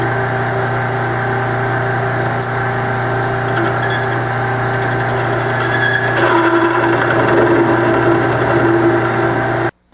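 A Morgan silver dollar is thinned down on a homemade wooden jig with a threaded center, giving a steady, loud, close motorized whine with a constant hum throughout. The noise cuts off abruptly at the end.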